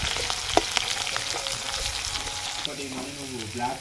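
Onions frying in a pan for an egg curry: a steady, close sizzle and crackle with occasional stirring scrapes, while a voice talks faintly over the cooking.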